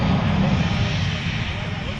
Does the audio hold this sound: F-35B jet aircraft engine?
yes